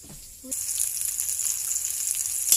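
Ground pork hits a hot pan with sautéed onions and garlic and bursts into a loud, steady sizzle that holds close and continuous after a quiet start.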